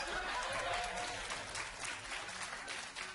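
Studio audience clapping on a comedy panel show, a soft, continuous patter of applause heard at a distance with faint chuckles mixed in.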